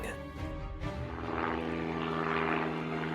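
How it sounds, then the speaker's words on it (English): Low-flying propeller airplane passing overhead, its engine drone rising into a loud, steady hum with a sustained tone that fills the scene. "Look! That plane! It's flying over us so low!"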